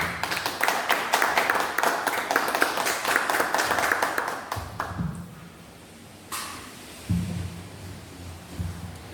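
Scattered clapping from a group at a wedding ceremony, uneven and thinning out after a few seconds, followed by quieter rustling and a few knocks.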